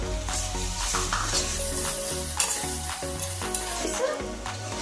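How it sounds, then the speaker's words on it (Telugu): Prawns fry in a pan for a prawn pulao, where ginger-garlic paste is already sizzling. Steady loud sizzling and spatter run throughout over rhythmic background music. "ప్రాన్స్ కొంచెం వేపుకుందాం"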